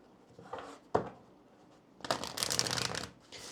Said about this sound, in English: I'll start off with pulling some Oracle cards, and then we'll move into the Tarot cards as well.